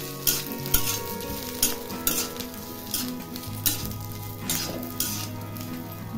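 Fresh grated coconut and green chillies roast in a pan for a green mackerel chutney, a dry sizzle under rhythmic spoon scrapes and metallic clinks against the pan, repeating every half second or so.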